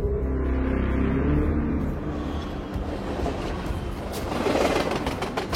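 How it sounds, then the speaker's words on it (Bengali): A train rattles along the tracks in a horror audio story, a loud, heavy rumbling that grows into a dense, clattering racket with rhythmic metallic clanks. "শব্দটাও হারিয়ে যায় ট্রেনের ঝনঝনানিতে।"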